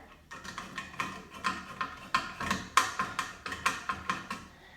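Screws being tightened on a Delta shower trim kit over a Multichoice mixing valve body, a quick run of a dozen or so crisp ratcheting clicks in an even rhythm, close and clear with no talking.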